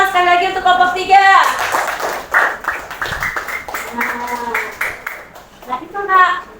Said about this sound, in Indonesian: Beri tepuk tangan sekali lagi untuk kelompok 3.